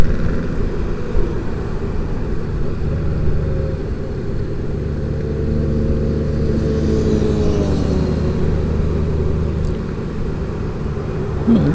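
A 2018 Honda Goldwing DCT motorcycle cruising in a high gear, its engine giving a steady, loud low rumble close by, with faint pitch shifts as it moves into the next of its seven gears, alongside road and wind noise.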